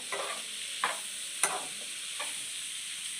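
A spoon stirs boiled eggs in a pan, four soft scraping strokes spaced about a second apart over a faint steady hiss, close and quiet.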